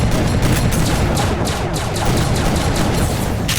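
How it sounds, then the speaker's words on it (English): Aircraft mini pistol firing in the video game bk2, a loud, continuous rapid burst of shots with dense repeating cracks throughout and no talking. "Personally, I don't mind using this aircraft mini pistol."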